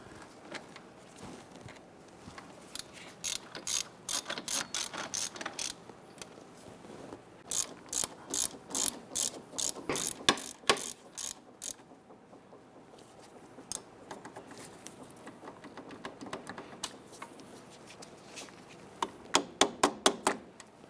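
A hand ratchet runs bolts down on the upper ball joint of a 1999-2004 Jeep Grand Cherokee, sharp clicking in quick bursts separated by short pauses, close and fairly quiet.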